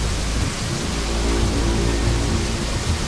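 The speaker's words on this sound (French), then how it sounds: "Il pleut comme vache qui pisse, dis donc." Heavy rain in a horror film pours down as a steady, dense hiss with a low rumble beneath, loud and continuous throughout with no voices.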